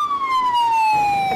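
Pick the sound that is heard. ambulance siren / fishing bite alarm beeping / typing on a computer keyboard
ambulance siren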